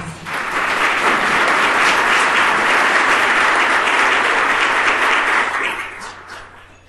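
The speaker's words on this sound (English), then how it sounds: "would you please give these people a round of applause?" A seated audience breaks into a steady, loud round of applause, a dense wash of clapping that holds evenly for about six seconds before tapering off.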